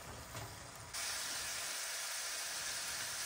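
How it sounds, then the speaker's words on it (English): Ground beef frying over medium heat in a pan gives a continuous broad hiss and sizzle that swells louder after a moment and holds steady, with no talking. "now I'm gonna fry this up on a medium heat, stirring it occasionally while breaking it apart"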